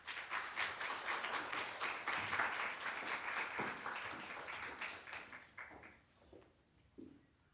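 An audience at a talk applauds to welcome a speaker, giving a loud burst of many hands clapping that thins out and fades to a few scattered claps near the end.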